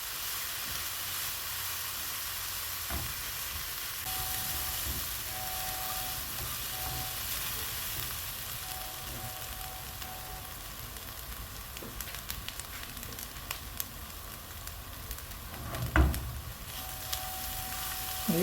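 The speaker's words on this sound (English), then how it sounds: "that's how I'm going to continue to stir on it until it's brownish in color" Coconut candy mixture cooks in a hot pan, a continuous soft sizzle and hiss with occasional scraping as it is stirred, plus a louder clatter near the end.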